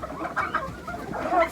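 Hens clucking in a farmyard, a busy run of short, close clucks and chatter from several birds.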